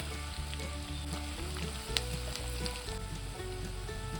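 Finely chopped onion fries in hot oil in a pan, a steady dense sizzle with a brief louder crackle near the middle, close and even throughout with no voices.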